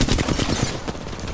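Rapid bursts of gunfire in the Apex Legends battle royale game crackle densely throughout, loud and close with overlapping shots and a busy, noisy texture.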